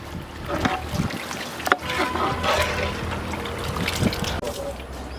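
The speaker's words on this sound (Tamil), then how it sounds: "அளவு தண்ணி ஒன்றுக்கு ஒன்றரை சேர்த்துக்கிடுவான் அப்படியே அளவு தண்ணியோட நல்லா மசாலாவை கலந்து கொடுக்குறேன்" Water poured into biryani masala in a cooking pot for beef biriyani, a loose splashing trickle with clinks of a utensil against the pot, fairly close.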